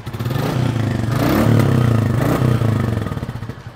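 A Royal Enfield Bullet 350 single-cylinder engine thumps close by, rising through two short revs before settling back into a loping, pulsing beat, with no talking over it.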